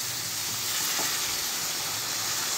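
Bele fish sizzling and frying in a pan, a steady hiss of hot oil throughout with a faint scrape of gentle stirring near the middle, close and fairly quiet.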